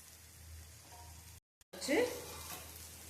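Onions sautéing in oil with salt, a soft steady sizzle that swells louder after a brief silent gap, with a voice speaking over the cooking.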